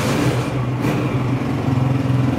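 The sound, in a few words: engine of a 2022 Honda 125 motorcycle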